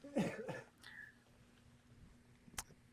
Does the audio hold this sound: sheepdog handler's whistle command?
no